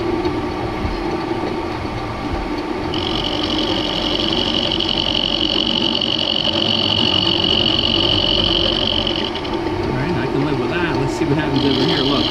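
A 3D printed lathe runs too fast, a steady mechanical whir and hum with a sustained high whine that starts a few seconds in, continuous and fairly loud.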